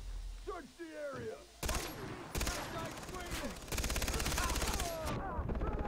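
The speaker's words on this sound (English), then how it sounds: "somebody was right there shooting me" Gunfire in the video game Far Cry 3. Bursts of rapid automatic shots come in several runs, loud and close, with someone talking over the early part.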